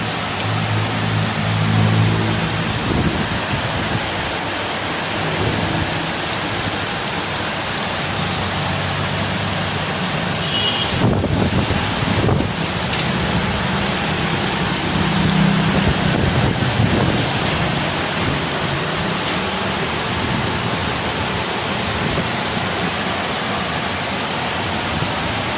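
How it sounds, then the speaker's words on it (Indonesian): Heavy rain and strong wind roar steadily at night outside a security guard post, a loud, dense, continuous wash with a few brief gusts or knocks partway through and no distinct thunder clap. "anginnya kencang kali."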